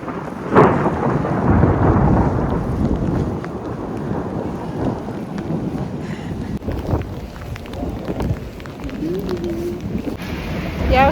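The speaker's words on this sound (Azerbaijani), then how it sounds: "Dayanmadan yağır." Heavy rain pours down in Mostar, with a loud thunderclap near the start and lower rumbles rolling on through a constant wash of rainfall close by.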